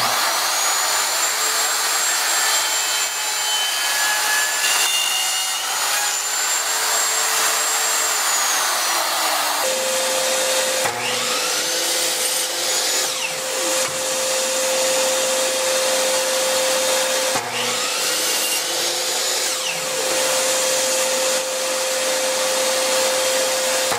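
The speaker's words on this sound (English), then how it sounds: "I'm going to use a bushing and a small straight bit on my router" A router with a small straight bit and guide bushing milling quarter-inch MDF to cut replaceable inserts for a drill press table; a loud, steady high-pitched whine runs throughout, its pitch shifting as the bit loads and unloads in the cut.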